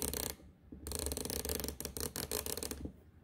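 A 3/8-inch drive ratchet from a Snap-on, Matco or Mac comparison clicks in quick, fine, close bursts, with short pauses between the swings and no talk over it.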